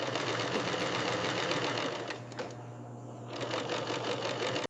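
A fur sewing machine stitching pelts runs with a steady, fast mechanical whir, loud and close, dipping briefly in the middle before resuming until it stops abruptly.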